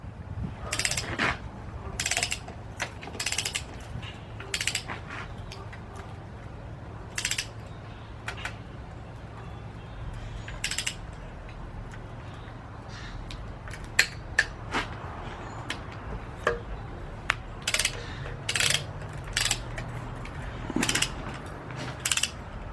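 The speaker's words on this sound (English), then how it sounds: "So I got my torque wrench set to 40." Torque wrench ratcheting in repeated short bursts of clicks while tightening bolts on a Buick 350 engine from a 1977 LeSabre, close and fairly quiet over a low background hum.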